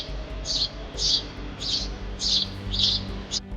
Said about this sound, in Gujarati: આ ચકલી છે.